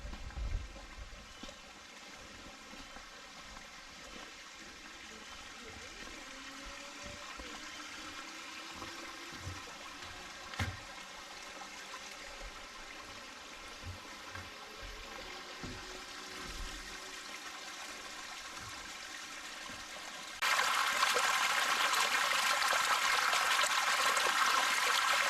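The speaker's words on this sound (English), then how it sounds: "So we can be at the waterfall here at WHICHESFALL" Waterfall at Witches Falls on Mount Tamborine, Queensland, a continuous soft trickling and splashing of falling water heard from nearby, rising to a louder, brighter rush near the end.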